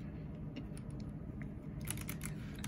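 Keycaps are pulled and swapped on a Keychron K7 slim 65% keyboard, giving scattered sharp plastic clicks and taps up close, sparse at first and quicker toward the end.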